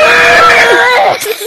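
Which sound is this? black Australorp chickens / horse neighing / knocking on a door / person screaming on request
person screaming on request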